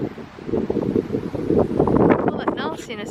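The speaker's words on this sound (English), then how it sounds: "I don't know what you can hear because it's quite windy." Gusty wind buffets the microphone with low rumbling bursts while a person talks over it.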